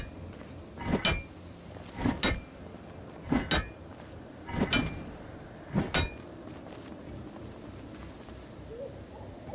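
A ball-peen hammer strikes a door in the video game Project Zomboid: five heavy, evenly spaced blows about a second apart, each sharp and ringing, over a low background hum.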